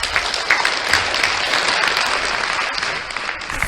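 Steady, dense applause from a live show audience fills the whole stretch, loud and continuous without a break, with no talk over it.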